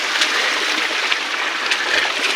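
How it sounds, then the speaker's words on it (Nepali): Stream water pours and splashes continuously at close range, a steady bright rushing hiss with no voices. "अब सङ्गो पानी त्यसरी झर्छ।"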